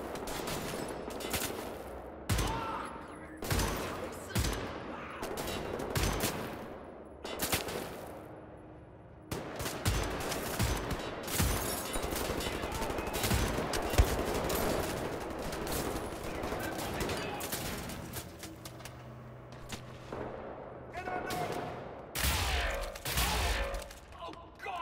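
A new gun in Wolfenstein: The New Order fires repeatedly in loud bursts and rapid volleys, with short pauses between strings of shots. Game combat noise fills the gaps, and a voice talks at times.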